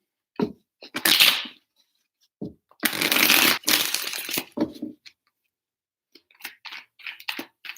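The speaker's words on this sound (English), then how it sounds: "3 shuffles" Tarot cards shuffled by hand in several separate bursts of riffling and slapping, close and crisp, with short silent pauses between them and no talk.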